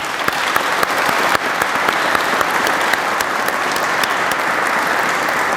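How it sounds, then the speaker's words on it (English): Loud, sustained applause from a big audience at a fire division public safety award ceremony in Newark, with many hands clapping continuously and a few sharper claps standing out. "Can we give them all a round of applause?"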